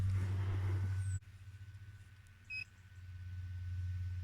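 A short, bright electronic beep sounds midway as a device powers on during DIY renovation work at a French chateau, set against a steady low hum and rumble.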